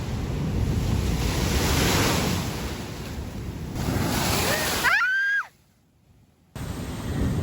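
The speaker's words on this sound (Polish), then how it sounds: "Fale są po prostu przezarąbiste" Ocean waves break on the shore at Bonaire in a continuous roaring surf with heavy wind buffeting the microphone. A brief high squeal comes near the end, then the sound cuts out for a moment.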